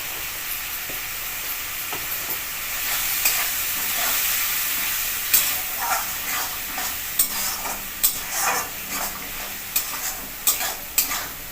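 Ground spices for a spicy bhola fish curry frying in a pan, a continuous loud hiss and sizzle with intermittent scraping clicks of stirring, close and with no voices.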